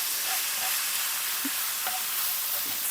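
Ground meat sizzles steadily in a pan with onion and ginger, a close, continuous frying hiss with a few soft stirring scrapes.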